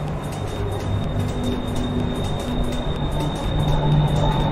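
A BTS Skytrain train at a station in Thailand gives a steady, fairly loud rumble with a constant high whine, swelling slightly toward the end, with no one speaking.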